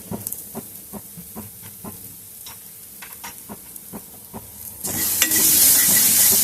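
A frying mixture for Mumbai-style vada pav is stirred as red chilli powder goes in, with rhythmic spoon scrapes against the pan over a soft sizzle that swells into a loud, bright hiss near the end.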